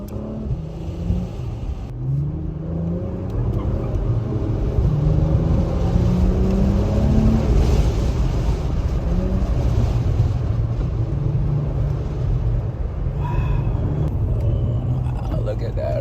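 Acura performance car on a test drive in Miami, engine rumble and rising revs heard from inside the cabin, continuous and fairly loud with whirring road noise.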